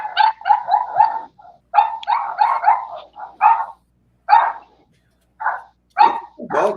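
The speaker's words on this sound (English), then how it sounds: "Dogs are going ape shit." Dogs bark in quick bursts, loud and close, with short pauses between volleys and a few higher yips mixed in.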